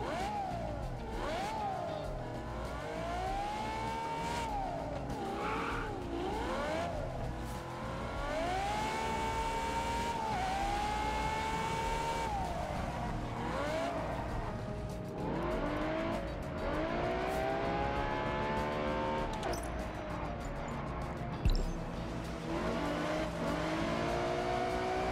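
A Ferrari 812 Superfast engine in the racing game Test Drive Solar Crown, loud and close, revving up and down through repeated gear changes in steady rising and falling sweeps, with a brief thump near the end.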